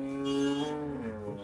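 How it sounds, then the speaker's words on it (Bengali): Cattle low with a sustained, tonal moo up close as a large herd of cows and bulls leaves the busy Hazratpur cattle market. "প্রচুর পরিমাণে গরু বেরোচ্ছে হযরতপুর হাট থেকে।"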